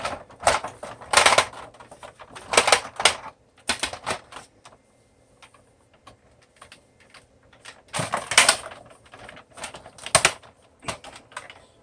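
Ratchet joints on a Transformers Titans Return Fortress Maximus toy click in quick bursts of crisp plastic ratcheting, close up, with quieter handling pauses between the clusters.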